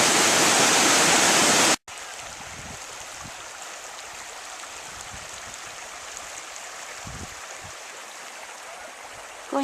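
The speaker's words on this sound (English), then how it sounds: "this is the top of Obsidian Falls" Obsidian Falls, a small waterfall where water emerges from rocky ground, pours in a steady, close roar that starts very loud and drops to a constant rushing hiss after a brief break.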